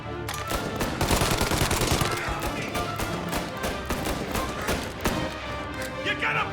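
Rapid gunfire in Mafia Definitive Edition, dense bursts and single cracks firing almost nonstop at close range, with game sound effects mixed in and voices calling out over the shooting.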